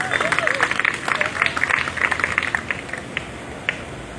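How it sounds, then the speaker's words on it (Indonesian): Church congregation at a worship service in Indonesia clapping for Jesus: crisp, uneven clapping from a crowd, mixed with voices and calls, gradually thinning toward a few final claps. "Tepuk tangan untuk Yesus."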